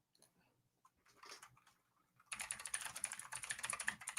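Fast typing on a computer keyboard: a dense, rapid clatter of keystrokes starts abruptly partway through and runs steadily to the end, after a quieter stretch of scattered faint noises.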